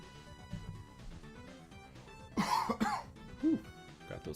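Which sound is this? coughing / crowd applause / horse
coughing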